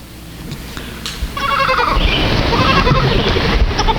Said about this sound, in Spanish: Vamos a poner el video de las cabras ahí.